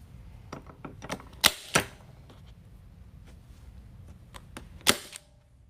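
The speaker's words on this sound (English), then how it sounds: "staple in the corners." Several sharp metallic stapler snaps as mesh is fastened at the corners of a Valentine's wreath sign, two loud close clacks then a third later, with lighter clicks and rustling between.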